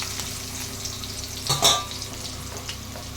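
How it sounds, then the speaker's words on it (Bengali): Potatoes fry in hot oil with a steady sizzle, and a brief louder burst of crackling and stirring comes midway through. "আলুগুলো আমি লাল লাল করে ভেজে নিচ্ছি।"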